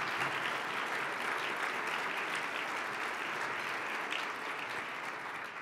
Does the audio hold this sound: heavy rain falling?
no